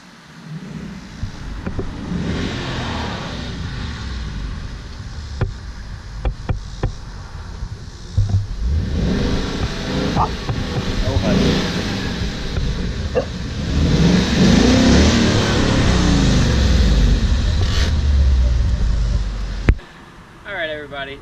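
A 2017 Ford Mustang with a 5.0 engine pulls up outside a house, its engine rising and revving and settling nearby, with wind buffeting and a person talking over it.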